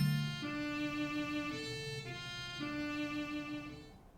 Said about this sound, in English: And this is called the inverted Song of Time.